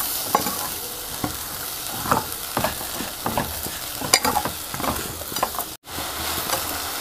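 Melting jaggery and sesame seeds for til chowli are stirred continuously in a pan, a soft sizzle under repeated scraping strokes of a spoon, close up and uneven in rhythm, with one brief dropout near the end.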